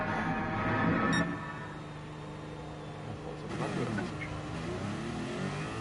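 Formula One car engine revving in the racing game GT Sport at Laguna Seca, a steady mid-pitched engine drone with shifting harmonic tones, rising and falling in pitch, under faint background noise.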